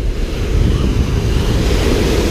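Steady roar of ocean surf at a surfing beach in Port Kembla, Australia, with gusting wind buffeting the microphone, a continuous low rumble of breaking waves.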